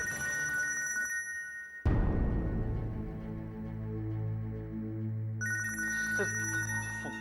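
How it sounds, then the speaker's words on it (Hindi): A telephone rings with a steady electronic tone at the start, then a loud low crash-like burst takes over before the ringing returns near the end. "फोन ले लूं? घर से फोन आया।"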